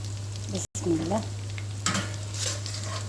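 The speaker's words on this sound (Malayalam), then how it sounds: "ഇതാ ഇവിടെ കുബ ഫ്രൈ ആയി വന്നിട്ടുണ്ട് നമുക്കിതൊന്ന് കോരി മാറ്റാം" Kubba frying in hot oil while being scooped out, a steady sizzle with scraping and stirring sounds of a slotted spoon in the pan, fairly close, with a constant low hum underneath.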